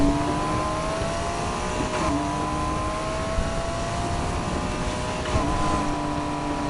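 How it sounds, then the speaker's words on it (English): Supercharged wide-body Porsche in a street racing video game, its engine droning steadily at high revs with a sustained whine, brief dips near two and five seconds as it shifts, loud and close throughout. "I'm legit supercharged, so yeah, I'm getting boost if I keep pressing down the gas pedal"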